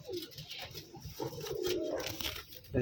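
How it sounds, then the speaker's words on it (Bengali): A female pigeon coos softly at close range, low throaty murmurs rising and falling across the moment amid faint rustling. "এটা একটা মাদি কবুতর"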